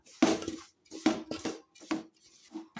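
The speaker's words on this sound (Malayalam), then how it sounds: "നല്ലപോലെ ഇളക്കി കൊടുക്കണേ" Four scraping strokes of a utensil stirring roasting chutney powder against a metal pan, each a short rasping sweep, close by with no talking.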